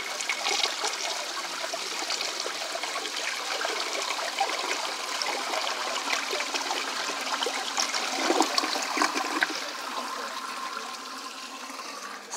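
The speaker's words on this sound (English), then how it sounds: "here's a flush." An old household toilet flushes with a loud, steady rush of water that stays strong for about ten seconds, then eases slightly toward a trickling refill, heard close up with no talking.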